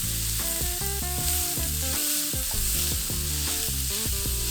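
Finely chopped red onion fries in oil for butter chicken curry, a dense, even sizzle running throughout beneath a layer of tonal melodic sound.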